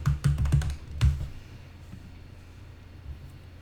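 A password being typed on a computer keyboard: a quick burst of close keystrokes for about a second, then near quiet.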